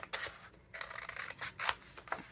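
Scissors snip through paper in a quick series of crisp, rasping cuts, close and fairly quiet, with brief pauses between strokes.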